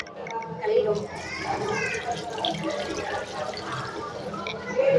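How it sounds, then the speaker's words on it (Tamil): Running water splashing steadily as hands are washed at the Nellaiyappar temple, a continuous rushing wash heard under close talking, with children's voices in the background. "எனக்கெல்லாம் கை கழுவுற பழக்கமே கிடையாது, இருந்தாலும் கழுவுறேன்."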